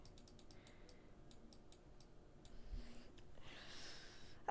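A computer mouse clicks in a rapid run of small, sharp ticks, then a few more scattered clicks, all faint and close in a quiet room.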